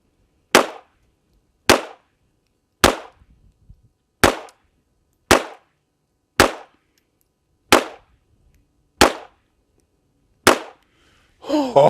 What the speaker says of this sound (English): Let's shoot at one of those green targets on the rear there and see if this thing will feed these Federal Auto Matches